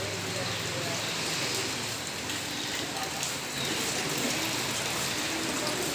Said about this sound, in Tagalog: Maulan na, mahangin pa.